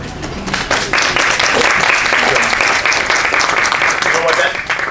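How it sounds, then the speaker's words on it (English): A crowd claps at a community celebration in the Great Falls Historic District of Paterson, a loud and sustained burst of applause that swells quickly and holds steady while a voice speaks over it. "They deserve another round of applause."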